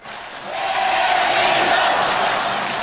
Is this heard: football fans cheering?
yes